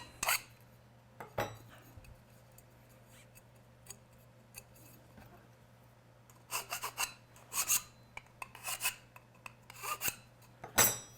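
Burrs on the edges of cut aluminum are filed away in quick scraping bursts after a few isolated clicks, close up and alone.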